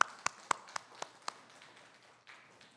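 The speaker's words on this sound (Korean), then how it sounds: "박수하겠습니다." A church audience at a Friday prayer meeting claps in a short burst of about six sharp claps, then it fades to a quiet murmur, faint and thin.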